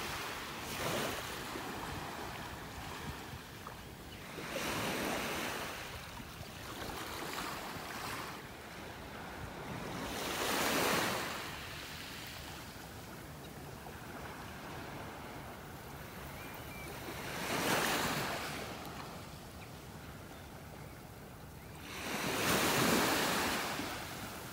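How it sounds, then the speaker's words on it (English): Ocean waves roll in and wash ashore on a North Naples, Florida beach in slow, periodic surges every several seconds, with a soft, steady hiss of surf and light wind between them. "Just listening to the waves."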